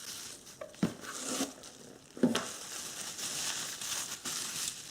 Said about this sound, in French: J'ouvre l'emballage.